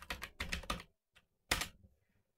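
A password is typed on a computer keyboard during a Windows Server installation, a quick burst of a few close key clicks, a pause, then one firm keystroke, in a quiet room.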